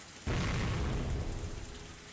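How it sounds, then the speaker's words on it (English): Rolling thunder rumbles through a steady rain in the Higurashi: When They Cry visual novel, a loud broadband roar that bursts in after a quarter second of quiet and slowly fades over about two seconds, with no voices. "I heard thunder again."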